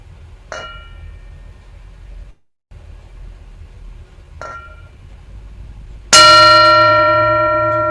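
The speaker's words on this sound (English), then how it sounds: "So enjoy the sound of the bell." A meditation bell is struck: two soft, brief taps, then one loud, clear strike whose bright ringing tone lingers and slowly fades in a quiet room.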